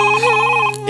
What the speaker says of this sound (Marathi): फोन येतोय